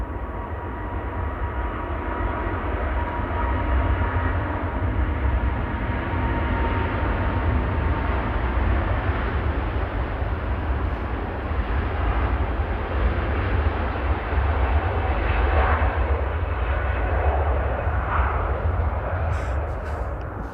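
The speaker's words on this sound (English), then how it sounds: "So as the Qatar was spooling up" Qatar Airways jet engines spool up for takeoff at Manchester Airport, a loud, sustained deep roar with rumbling low end that holds steady and swells slightly toward the end, heard from a distance.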